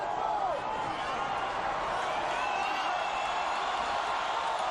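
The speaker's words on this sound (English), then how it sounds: "Crowd reacting as time ticks away." Fight crowd at a Muay Thai-style women's bout murmuring and roaring steadily as the round clock winds down, a dense continuous wash of arena noise with no clear breaks.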